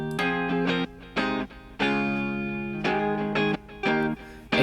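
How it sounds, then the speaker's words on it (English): Two layered electric guitars with delay play a chord melody in short, repeated sustained stabs with brief gaps between phrases, fairly loud and alone. "And you get something that sounds like a guitar chord melody."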